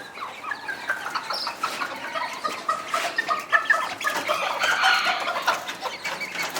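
Young Serama chickens, around three to four months old, cluck and chirp in a busy, overlapping chorus of short calls, steady and close, with no talk.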